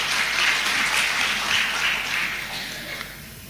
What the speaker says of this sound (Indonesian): Makasih, tepuk tangan buat beliau.